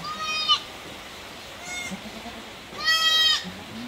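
A newborn goat kid bleats three times, high and quavering: a short cry, a brief faint one, then a longer, louder call near the end, close by against a quiet background.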